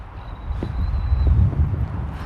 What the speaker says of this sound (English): it's just extremely windy today.